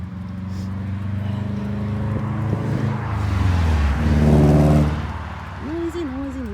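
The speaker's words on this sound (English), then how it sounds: "Noisy, noisy, noisy cars." Steady roar of traffic passing nearby, with engine noise swelling and fading as vehicles go by; a person's voice is heard faintly over it.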